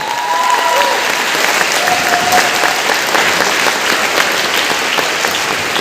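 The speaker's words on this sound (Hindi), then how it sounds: "एक जोरदार ताली होना चाहिए, वो भी खड़े होके।" A large seated audience at a business event in Kolkata rises for a standing ovation, producing dense, loud, continuous applause that fills the whole stretch with steady clapping, with faint voices mixed in.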